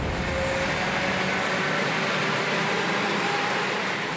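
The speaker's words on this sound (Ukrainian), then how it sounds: "Міська електричка – чи не єдиний спосіб дістатися центру столиці просто із спальних районів, ще й без заторів" A city electric commuter train in a capital runs with a loud, steady, unbroken rumble and rush that fills the whole stretch without pause.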